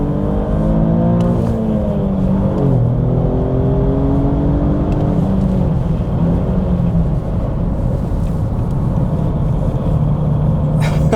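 An Alfa Romeo Stelvio's engine drones steadily on a racetrack, with pitch dips and rev-matching blips during heel-toe downshifts, heard loud and close from inside the car.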